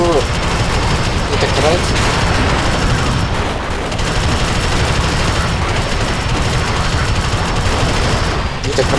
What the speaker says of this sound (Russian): Они вон, смотри, как стреляют.